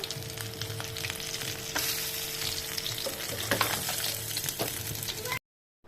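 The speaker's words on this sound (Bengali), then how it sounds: "আমার কই মাছগুলো ভাজা হয়ে গেছে" Koi fish fry in a pan with a steady, close sizzle and scattered crackles and pops, and stirring noises come and go. The sound cuts off into silence just before the end.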